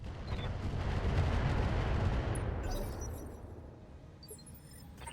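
Mech weapons firing in the Battletech game with the Roguetech mod, a heavy rumbling barrage of booming blasts that swells, then thins out and fades, with a few sharp metallic pings near the end.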